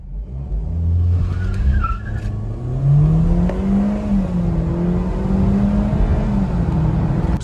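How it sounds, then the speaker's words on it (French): A car in sport mode pulls away from a standing start, its engine note climbing smoothly through the revs with a short tire squeal at the launch, heard close and alone. "Je vais essayer de vous faire un petit départ arrêté en mode sport."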